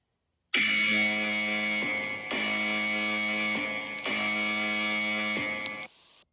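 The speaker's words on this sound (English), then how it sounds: "that big old timer meant you did it" A workout interval timer's electronic buzzer sounds loudly and steadily for about five seconds, a harsh tonal drone broken by brief pulses, with no voices.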